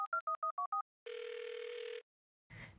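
A telephone line during a call transfer: a quick run of six keypad dial tones, then a steady held ringback or transfer tone for about a second, a pause, and a brief noisy burst as the line connects.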